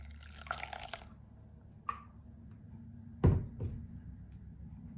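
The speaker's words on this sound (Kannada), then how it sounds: "ಸೊ ಮಿಕ್ಸಿ ಜಾರ್ಗೆ ಒಂದು ಸ್ವಲ್ಪ ನೀರು ಹಾಕಿ ಅದನ್ನು ಇದಕ್ಕೆ ಹಾಕ್ತಾಯಿದ್ದೀನಿ" Water tipped from a kitchen mixer jar into a container while making orange and pomegranate juice, heard as a few brief splashes and drips with a louder pour near the end, close and otherwise quiet.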